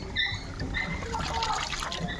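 Salted dried fish being rinsed by hand in a basin of fresh water, a steady close trickle and light sloshing of water lasting a couple of seconds with no talk.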